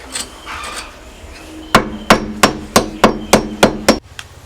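Someone drives a nail into wood by hand with a hammer, landing about eight sharp, evenly spaced strikes close by after a few quieter taps.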